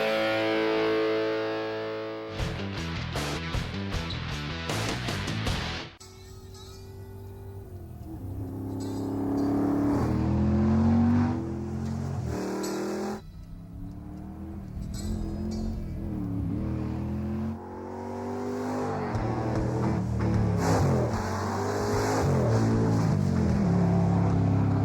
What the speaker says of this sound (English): That sound, Flowmaster Super 40 mufflers, the sound of great American performance.